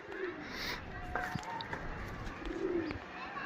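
Pigeons coo faintly in the background, low throaty warbles repeating under a steady ambient hum, with occasional faint clicks and distant voices.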